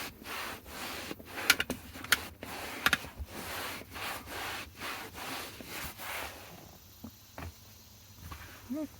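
A brush scrubs back and forth over the leather seat of a BMW E90, making rhythmic, close rubbing strokes with a few sharper scratches, then quieter handling near the end.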